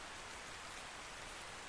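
Steady rain in ARK Survival Ascended, a constant soft hiss of drops falling without a break, even and fairly faint, with no voices.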